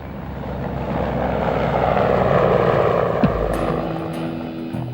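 A Mi-24 Hind, a twin-turbine military attack helicopter, passing overhead with a broad, steady roar of rotor and engine that swells and then eases, loud and continuous.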